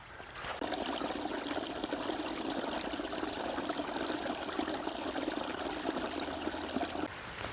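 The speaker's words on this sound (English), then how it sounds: "This water behind me is just flowing downhill." Creek water on the Appalachian Trail, swollen with snowmelt, rushes steadily downhill in a close, continuous broadband flow that holds an even level from start to finish, with no voices over it.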